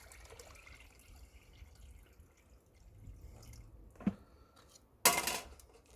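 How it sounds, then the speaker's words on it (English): Water tipped out of a Rota-pan gold-panning bucket lands in one short, splashy pour near the end, preceded by quiet background and a single small drip or knock. "Then, I'll just tip this water out."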